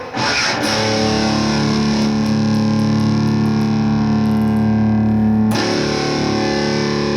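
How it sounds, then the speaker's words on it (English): An electric guitar played through a fat distortion effect holds a thick, sustained chord that rings loud and steady for several seconds, then is cut short and decays as the drive setting is adjusted. "I'm going to turn some of the drive on the fat distortion down because it's a bit too crispy already"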